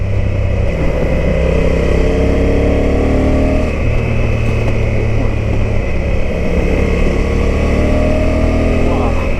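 A Honda motorcycle engine pulls hard and then drops a gear, its loud, close drone sliding up in pitch and shifting down partway through, with a rider talking over it.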